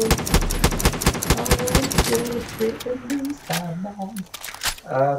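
Rapid automatic gunfire from Far Cry 5 rattles loudly in a dense burst, then thins into scattered shots as someone talks over the action.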